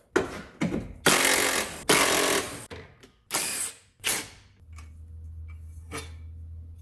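Bursts of ratcheting and mechanical clicking from a socket ratchet with 10 mm and 12 mm deep sockets loosening bolts on a 2001 Subaru Outback during a timing belt job, close by, with short pauses and a low steady hum afterward.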